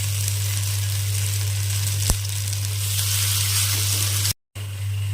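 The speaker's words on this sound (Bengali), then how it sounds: "কমিয়ে দিয়ে বড়াগুলো ভেজে নেব" Split pea lentil fritters (bora) fry in oil with a steady, even sizzle and fine bubbling over a constant low hum, broken only by one brief click and a short gap near the end.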